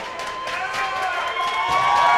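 Spartans fans at a varsity hockey game between Mayo and Hastings, a rink crowd cheering and rising after a heavy hit, heard under a play-by-play announcer talking over it.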